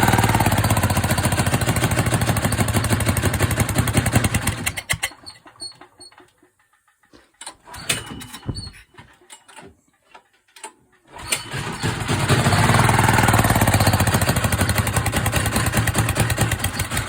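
A Predator 4000 generator engine runs loud and steady, then sputters and dies into near silence with a few coughs and pops, before roaring back to a strong steady run.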